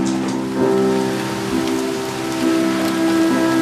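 Steady rain falling outside, an even close patter on surfaces with a low hum underneath, continuous throughout and with no voices.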